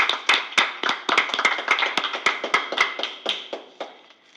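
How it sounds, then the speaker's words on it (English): Applause from a school board meeting audience for school counselors: a modest group of distinct, sharp hand claps at an uneven rhythm, fairly close, tapering off toward the end. "Let's give them a big round of applause as well."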